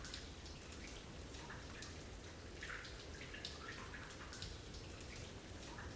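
Steady water noise surrounds the listener in the audio game The Tower: a continuous patter of drops and drips like rain on a surface, even and unbroken, with no voices.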